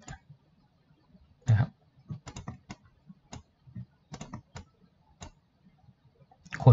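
Computer mouse clicks with the Ctrl key held while working the Clone tool in photo editing software: sharp, dry, close clicks in irregular bursts with pauses between them, and a few soft spoken words.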